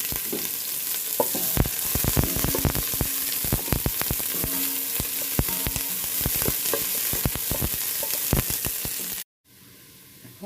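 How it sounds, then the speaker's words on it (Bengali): Onions frying in a pan for chicken biryani, a steady close sizzle with scraping stir strokes throughout, then an abrupt cut to near silence at the end. "পেঁয়াজটা আমরা ভেজে নেব।"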